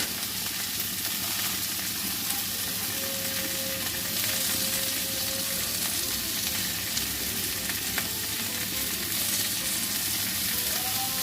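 Food with turmeric and salt frying in a pan, a loud, dense, unbroken sizzle heard up close for the whole stretch, with faint stirring scrapes underneath.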